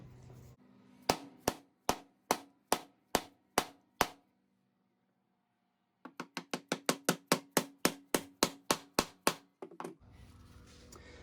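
Nuts hammered into wooden Moxon vise handles: eight evenly spaced sharp strikes, then a pause, then a faster run of about fifteen blows, close and loud.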